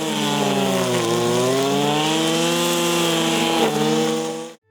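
A petrol brush cutter with a nylon rope head, 2.7 to 3 mm line, runs at a steady high-pitched whine for about four and a half seconds, dipping slightly in pitch twice before cutting off abruptly.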